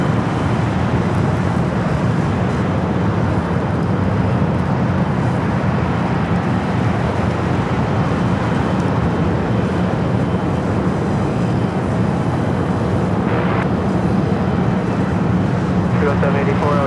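Airliner powering up for takeoff at Los Angeles airport, a sustained low engine roar and rumble blended with distant traffic noise, running steadily throughout with voices talking over it.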